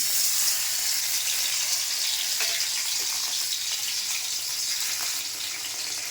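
Onion, garlic and ginger fry in hot oil for a Bengali kajli fish curry, giving a steady broadband sizzle with a faint watery trickle that stays even and close throughout, no voices.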